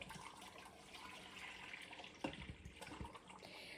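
Milk pours quietly into an Instant Pot for homemade yogurt, a soft liquid trickle and splash that grows into a few brief gurgles near the end.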